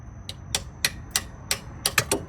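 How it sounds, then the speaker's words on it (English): Sharp metallic taps from a hammer driving a temperature sensor into a car radiator, about nine strikes at a fairly even pace, with a couple of quick doubles near the end, close and moderately loud. "I kind of have to hammer it in there"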